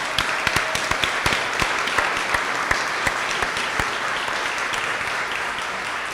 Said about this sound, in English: let's give all of our students another round of applause